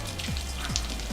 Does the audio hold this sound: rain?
yes